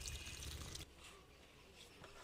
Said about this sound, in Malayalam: ഇനി നമുക്ക് വെള്ളം ഒഴിച്ച് കൊടുക്കാം